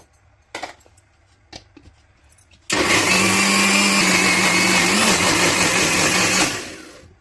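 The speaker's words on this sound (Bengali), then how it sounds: "এগুলি আমি পুরোটাই ব্লেন্ডার করে নিব" An electric blender churning milk cream to separate butter switches on after a few light clicks and knocks, roaring steadily and loudly for several seconds before winding down.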